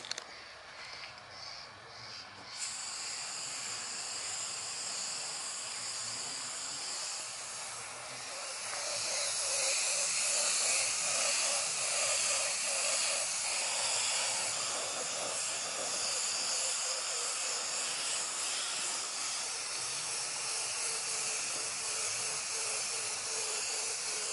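Spray gun hissing steadily as paint goes onto a car bumper sanded with 800 and 1500 grit, a long continuous airy spray close by that starts soft, then swells louder and holds with no talking.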